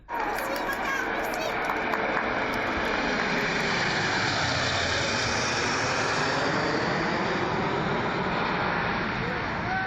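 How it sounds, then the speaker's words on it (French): A formation of eight Patrouille de France Alpha Jet aircraft flies past in a loud, continuous jet roar that fills the whole stretch, with a crowd chattering underneath. "Ces 8 Alpha Jets de la patrouille de France sont des engins de 9 mètres d'envergure qui peuvent voler jusqu'à 1000 km/h."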